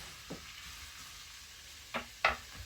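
Peppers and onions charring in a pan for ribeye fajitas, a quiet steady sizzle with a few brief scraping stirs of a utensil near the end.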